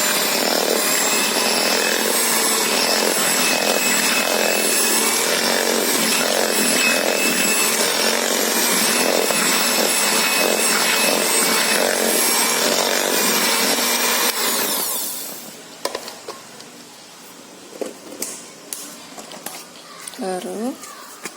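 An electric mixer beats cookie dough for nastar and kue salju with egg yolks, giving a loud, steady, high-pitched whirring drone that cuts off sharply, leaving scattered faint clinks and scraping.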